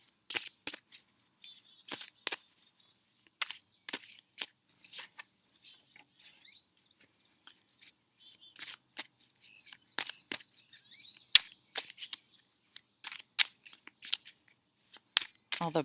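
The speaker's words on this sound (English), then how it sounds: "I have bird feeders right in front of me. All the birds are still, the chickadees are brave or stupid." Chickadees chirp intermittently at backyard bird feeders, short sharp calls scattered across a quiet outdoor scene, some near and some farther off.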